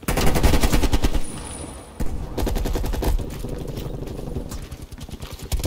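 Burst fire from an M16 rifle in the video game Call of Duty Cold War: rapid, loud cracking shots in quick clusters, with a short lull near two seconds before the firing resumes steadily.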